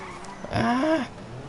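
A Rune Cheburek car engine in GTA 5 gives one short, beefy rev that rises and falls within about half a second against a quiet background.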